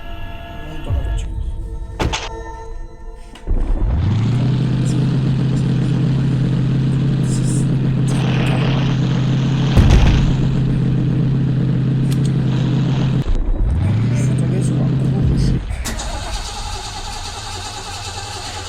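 A car engine in a Roblox video game cranks and catches after a few clicks, then settles into a loud, steady idle, cuts out briefly, restarts and runs on before stopping.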